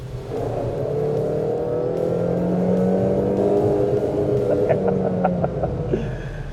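Engine of a Honda Elevate SUV revs steadily, a loud droning hum with tones that rise and fall, close and continuous with no voices over it.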